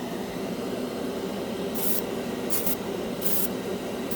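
A cheap $10 Harbor Freight airbrush sprays enamel paint onto a scale model with a steady, even hiss, broken by a few short, sharper bursts of spray.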